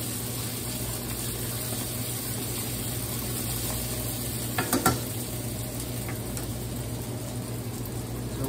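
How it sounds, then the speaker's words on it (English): Caramelized onions sizzle steadily on an induction burner, a constant close hiss of frying with a few brief stirring clicks partway through. "do you hear that sizzling? these are the caramelized onions"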